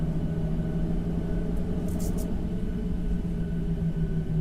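Boeing 737 engines in X-Plane 12 on departure from Miami: a steady, droning low rumble with a sustained tonal hum and a slight warble, continuous throughout with no talk, plus a couple of brief faint high blips.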